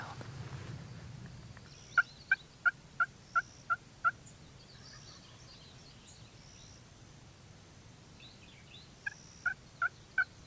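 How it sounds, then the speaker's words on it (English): Wild turkey toms gobbling at a distance on a foggy, damp morning during a hunt, with a run of six quick repeated gobble calls followed later by a shorter burst of three, over a quiet hiss of open air. "We got a couple gobbles"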